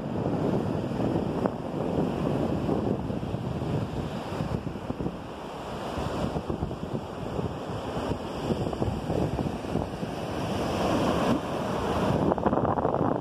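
Ocean surf rolls onto Meia Praia beach in Itapema, a steady broadband roar that stays loud throughout, mixed with gusts of wind buffeting the microphone and no talking.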